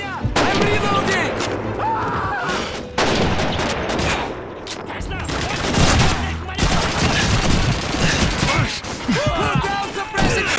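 Rapid bursts of machine gun suppressing fire rattle through a Call of Duty 2 battle, dense and loud amid other gunshots and explosions, with shouted voices over the fighting.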